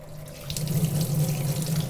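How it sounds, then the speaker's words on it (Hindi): Cold RO water runs steadily into a cooking pot in a home kitchen, a continuous close splashing stream that grows a little fuller partway through, with no voices. "अब इसमें हम डाल रहे हैं ठंडा पानी।"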